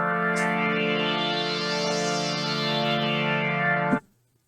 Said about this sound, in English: You can create, traditional pad sounds.